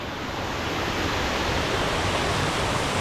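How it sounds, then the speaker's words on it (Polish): Small mountain waterfall on a hiking trail to Hochstuhl, a dense, steady rushing of falling water, loud and close with no voices. "Teraz lecimy drugim strumykiem i znowu wodospadzikiem."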